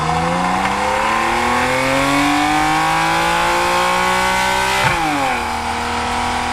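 A Porsche 911 GTS engine revving high and holding on a race track, its pitch climbing steadily, then a quick dip and rise as the PDK gearbox shifts, loud and close throughout.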